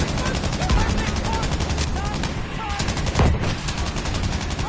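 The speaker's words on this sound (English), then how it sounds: "This is a German machine gun" A German MG-42 machine gun fires long, rapid, continuous bursts in the Battlefield V video game, loud and close, with voices talking over the gunfire.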